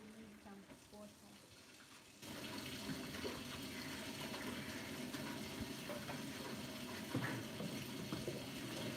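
A kitchen tap turns on abruptly and water runs steadily into a pot for cooking, a constant rushing splash that continues unbroken to the end.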